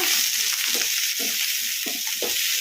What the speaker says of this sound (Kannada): ಈ ಥರ ಟೊಮೊಟೊನ ಕಲಿಸ್ಕೊಂತ ಫ್ರೈ ಮಾಡ್ಕೋಬೇಕು